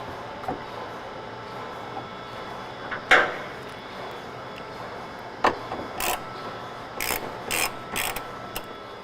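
Ratchet wrenches click in short, sharp bursts while loosening the straps on the fuel tank of a 2020-2023 Winnebago Revel, with scattered clicks and metallic ratcheting close by and no talk.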